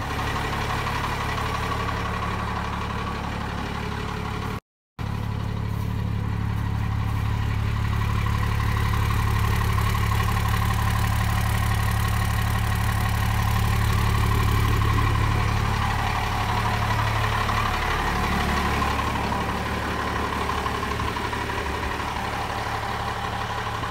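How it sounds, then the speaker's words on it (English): A Ford F250 pickup, originally gas-powered and now diesel, idles steadily with a low rumbling drone and a faint knock, continuous and close by, with a brief dropout near the start and no talking. "Today I am introducing you to my new pickup."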